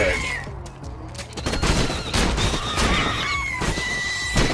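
Shotgun blasts from the video game Borderlands 2 crack out in a few sharp bursts, mixed with clucking birds and busy game effects.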